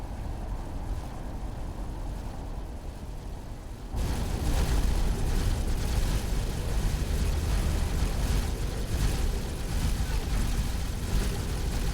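An explosion during a space battle in X4: a steady low rumble that jumps to a louder, fuller roar partway through and then holds as a sustained blast-like din.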